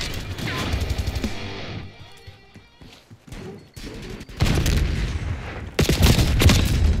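Heavy gunfire from the video game Call of Duty: Black Ops 6 beta, with loud, dense bursts of shots at the start and again toward the end, separated by a quieter stretch.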